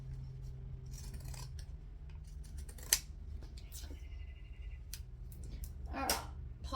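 Pinking shears snipping through fabric for a child's hat, a few crisp crunching cuts with scattered handling clicks and rustles over a low steady hum, close by.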